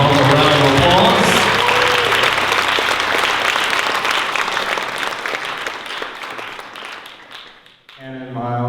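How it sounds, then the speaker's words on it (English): Loud, sustained applause fills a wedding reception hall for Miles and his mom, dense clapping holding steady for several seconds before tapering off, with a voice briefly speaking near the start and again at the end. "Let's give Miles and his mom a round of applause"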